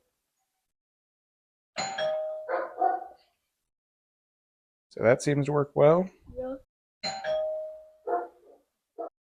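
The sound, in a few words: Wyze Video Doorbell V2 chime ringing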